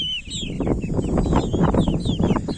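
Chickens and roosters, including black roosters, cluck and chatter close by in a busy farmyard flock, with overlapping short calls in quick succession.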